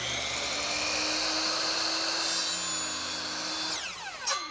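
A power saw cutting quarter round wood trim for a ceiling corner, a loud high whining blade held steady through the cut, then winding down with a falling pitch as the motor spins to a stop.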